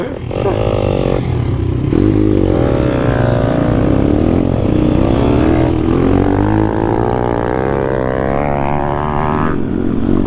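A KTM RXF enduro dirt bike engine revs loud and close on a dirt trail, its pitch climbing and falling in long sustained pulls with a rough, buzzing tone throughout.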